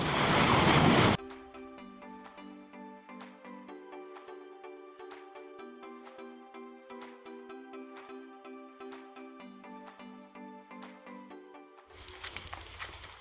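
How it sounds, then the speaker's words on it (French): Rough Caribbean surf breaks on a wild black-sand beach on a French Caribbean island, a loud rushing wash heard briefly at the start and again at the end, with music playing in between. "La mer est plus agitée. Il y a plus de vagues."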